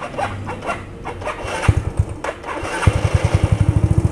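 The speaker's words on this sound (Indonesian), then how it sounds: "coba kita nyalain untuk pertama kalinya ya, setelah diganti oli dan suplemen" A Yamaha Mio motorcycle, freshly fitted with new oil and additive, cranks with a short burst of rhythmic starter pulses, pauses, then catches and settles into a close, steady, chugging idle.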